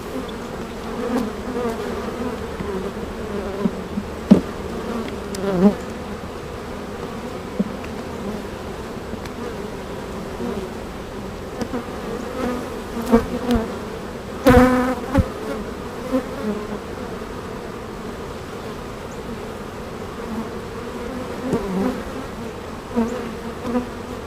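Honeybee colony, merged from several swarms, buzzing steadily during a hive inspection, a dense continuous drone from many bees near the listener, with occasional louder passes and faint knocks from frame handling.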